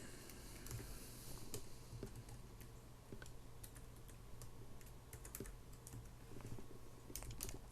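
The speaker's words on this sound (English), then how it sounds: "Just going across the keyboard here, trying anything." Keys are pressed here and there across a computer keyboard during play of a PC game, producing faint, scattered clicks and taps over a low background hum.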